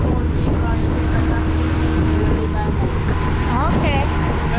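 A steady low boat engine rumble drones throughout, with wind buffeting the microphone and people talking nearby, in Jamaica.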